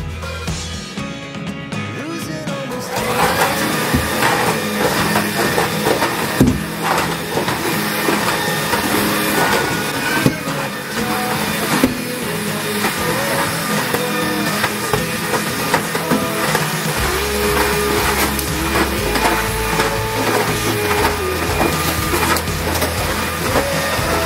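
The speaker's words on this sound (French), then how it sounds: "Passe mon aspirateur partout" Vacuum cleaner running over a bathroom floor with the small rug lifted away, a steady loud broadband drone that starts after a quieter opening and keeps going without a break, its tone shifting as the nozzle moves.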